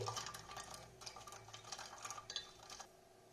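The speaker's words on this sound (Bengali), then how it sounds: "সুইট কর্নগুলো আমি প্রেসার কুকারে দিয়ে দিচ্ছি।" Sweet corn kernels tumble into a pressure cooker, giving a quick run of light clicks and patters against metal, close and fairly quiet, with no voices.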